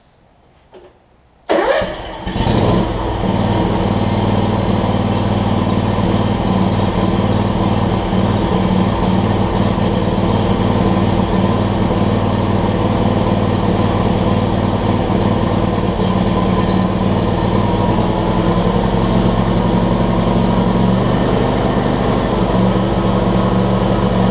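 A John Deere X300 lawn tractor engine, just fitted with a new fuel pump, cranks and catches about a second and a half in, then runs on steadily and loudly at a rough idle, with no talking.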